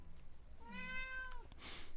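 A single drawn-out meow from a cat in the video game The Last of Us, fairly clear and close against a faint background hum.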